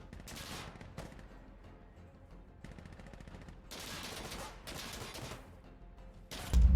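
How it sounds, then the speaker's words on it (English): An anti-materiel rifle in a video game fires in several sharp, heavy reports spaced across the clip, each with a short ringing tail, ending in a louder booming hit. "This is an anti-material rifle"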